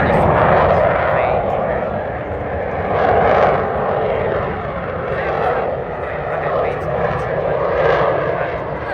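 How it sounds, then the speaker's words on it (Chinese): An F-35 fighter jet flies slowly at high angle of attack during a display at the Avalon Airshow 2025 near Melbourne, its engine a loud, steady roar that swells and eases for the whole stretch, with voices underneath. "F-35在展示它可以用非常慢的速度飞。"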